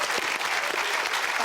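Studio audience applause at a televised debate on women, a steady dense wash of clapping throughout, fairly close and full, with no talk over it.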